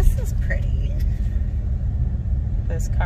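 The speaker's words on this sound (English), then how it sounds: "we are gonna drive up Mount Washington" A car climbing the road up Mount Washington, with a steady low engine and road rumble running throughout, brief chirps and clicks on top, and people talking over it.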